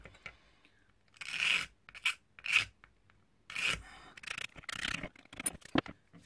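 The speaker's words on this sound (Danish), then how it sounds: "klinge her fra en Stanley kniv og lige tager de værste grader væk" A Stanley knife blade scrapes burrs off a repaired cowling in several short rasping strokes, close and dry, separated by brief pauses, with no speech.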